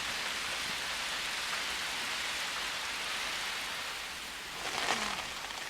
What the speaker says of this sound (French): Ah non, c'est la pluie.